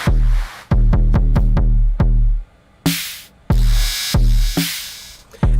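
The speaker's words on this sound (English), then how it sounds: "That sound you're hearing, the compression there, is from the distortion built into the drum brute." An Arturia DrumBrute analog drum machine plays punchy kicks and sharp snares in a fast broken pattern, its built-in distortion making each hit swell and pump loudly.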